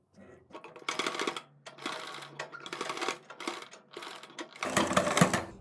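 A sewing machine stitches cords onto a kurti neckline in several close, rapid whirring bursts separated by short pauses, with the longest and loudest run at the end.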